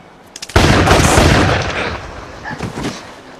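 A loud close gunshot in a tense scene from the TV show Lost, a sharp blast after a few faint taps, with a long rumbling echo that fades over about three seconds.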